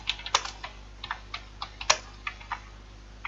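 Key presses on a computer keyboard while entering a short line of text, a steady, unhurried series of distinct clicks with occasional sharper taps, heard close over a low constant hum and no speech.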